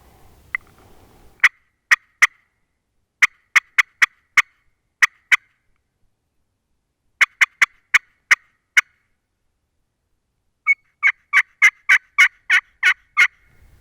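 A wild turkey on public land in Iowa calls in sharp, rapid bursts, clear and fairly close, with clusters of quick notes separated by short silences and a longer run at the end.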